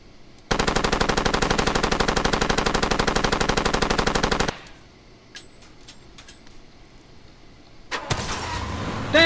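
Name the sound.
enemy gunfire hitting player in Far Cry 2 video game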